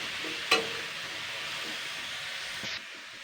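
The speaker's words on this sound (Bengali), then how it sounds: "তো এবার আমি এতে জল দিয়ে দিচ্ছি" Water poured into a hot pan of cooking pumpkin greens hits with a sudden sharp splash and crackle, then settles into a steady sizzling hiss for a few seconds before cutting off.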